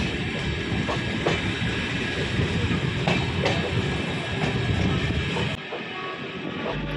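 A Chennai to Mysuru electric train rumbles steadily along the rails, heard from sleeper class, with periodic clickety-clack beats from the wheels, continuous and close, then the noise drops abruptly near the end.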